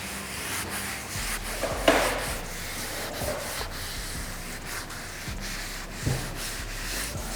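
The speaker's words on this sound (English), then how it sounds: "Now let's get started with the sanding." Close, steady rubbing strokes of 400-grit sandpaper on a car headlight lens, repeated back-and-forth scrapes with a few louder knocks.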